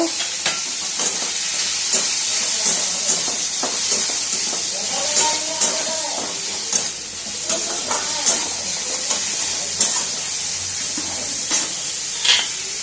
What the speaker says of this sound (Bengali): আর একটু লঙ্কার গুঁড়ো আর একটু আদা রসুন বাটা। এটাকে দিয়ে ভালো করে ভেজে নেব।